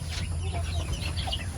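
Native chickens on a farm in Glan, Sarangani, clucking softly and steadily close by, with several birds' murmured calls over a low rumbling background.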